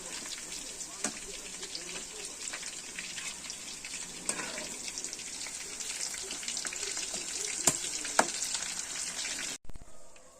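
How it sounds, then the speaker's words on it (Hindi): Chicken frying golden brown in hot oil for a Kashmiri-style recipe, a steady close sizzle and crackle with sharp pops scattered throughout, ending abruptly. "ये आप देख सकते हैं हमारा चिकन फ्राई हो गया है।"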